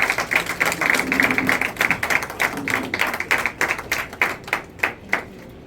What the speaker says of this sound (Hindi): मैं चाहूंगा महिला प्रधान से एक बार जोरदार दोनों महिलाओं के सम्मान में तालियां।